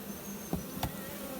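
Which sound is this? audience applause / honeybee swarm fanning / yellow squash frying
honeybee swarm fanning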